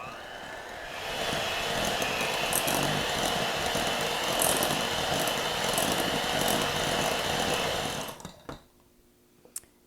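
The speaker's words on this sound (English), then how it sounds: "I'm just going to take my hand mixer and blend this together." A hand mixer creams softened butter with white and brown sugar for piña colada banana bread batter, giving a steady, close whirring drone for about seven seconds before it cuts off, leaving near silence.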